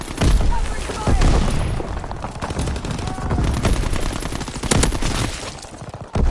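Sustained covering gunfire in a WW2 video game, dense bursts of rifle and machine-gun shots with booming impacts, loud and continuous throughout, with game voice callouts mixed in.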